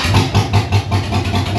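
A 1955 Chevrolet 210 wagon engine, long dead and running without its exhaust properly connected, fires up and idles with a steady, loud, throbbing pulse close by.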